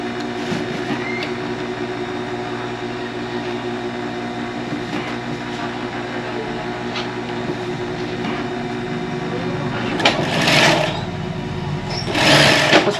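Electric sewing machine stitching a foam cover, a steady close mechanical whir with even rhythmic stitching that runs throughout, with brief louder bursts of noise near the end.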